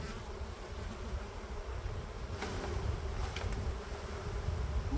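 A steady, dense buzz of many bees fills the air close by as they are removed from a thin breeding box, an unbroken hum with no talk.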